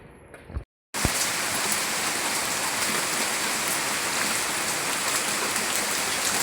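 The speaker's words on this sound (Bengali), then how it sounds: "এত বৃষ্টি শুরু হয়েছে, অনেক বৃষ্টি শুরু হয়েছে।" Heavy midday rain pours steadily as a dense, loud, continuous hiss after a brief cut near the start, with no talking.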